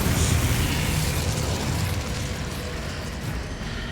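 Incendio fire spell cast in Hogwarts Legacy on PS5: a loud burst of fiery roar erupts at once and holds steady for several seconds, slowly easing off without any voices.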